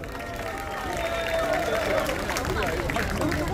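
Crowd noise and applause from a large outdoor rally of Marine Corps reserve veterans near the National Assembly station, a dense steady roar of clapping and voices welcoming a speaker to the stage.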